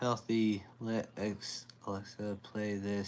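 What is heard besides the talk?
None of the usual background noises is heard.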